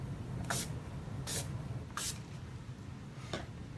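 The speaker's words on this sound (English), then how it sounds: "Finishing spray. This is what's going to make it last 16 hours." Four short bursts of makeup finishing spray hiss from a pump bottle, spaced unevenly, close and fairly quiet.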